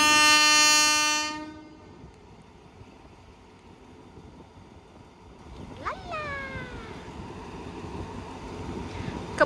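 Passenger train no. 201 hauled by a Hitachi 4505 diesel locomotive, opening with a loud sustained horn blast that fades, then a steady low rumble of running wagons with squealing wheel or brake tones rising later.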